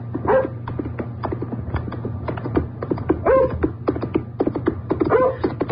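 A dog barks three times amid a steady clatter of galloping horse hooves on a lonely hill road, sound effects from a 1977 Jane Eyre radio drama, with a low steady hum underneath and no talk.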